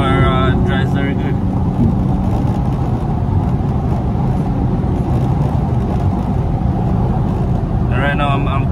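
A 3.0-litre twin-turbo Infiniti Q50 cruises along, its engine and exhaust a loud steady drone heard from inside the cabin, with brief higher tonal whines near the start and end.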